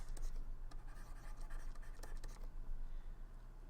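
Chalk or marker scratches across a classroom board in quick, irregular strokes, dry and close, with short pauses between bursts and a low steady room hum beneath, no talking.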